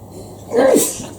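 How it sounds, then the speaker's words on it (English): A single loud, close sneeze bursts out over faint room background, a quick sharp blast that rises and then cuts off. "need to sneeze"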